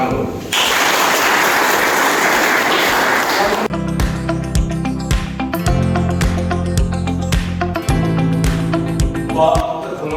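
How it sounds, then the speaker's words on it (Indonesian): Students in a police academy classroom break into a loud round of clapping lasting a few seconds, then music takes over. "Tepuk tangan dulu"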